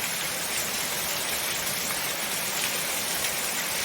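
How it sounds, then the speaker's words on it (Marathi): Heavy rain pours down in a village in a loud, unbroken wash of hiss. Nothing else stands out and no one speaks. "बघा पाऊस कसा चाललाय"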